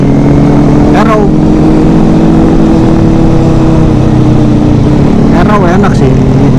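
A Kawasaki ZX25RR motorcycle with an Arrow exhaust idles loudly and close with a steady low drone. Someone talks over it.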